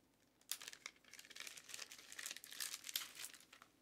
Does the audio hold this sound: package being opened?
yes